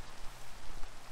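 Rain falling steadily in a video game, a soft continuous hiss of drops with no talk over it.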